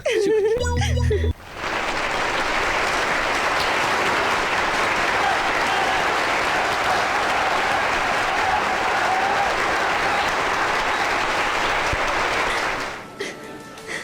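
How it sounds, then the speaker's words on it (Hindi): An audience claps in sustained, dense applause for about eleven seconds, loud and steady, then fading, with brief talk before it starts. "कैसे तालियां बजा रहे हैं सब"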